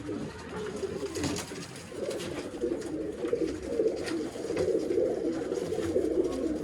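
Pigeons for sale in Bangalore coo steadily and close by, a continuous throaty burbling that runs throughout with overlapping calls.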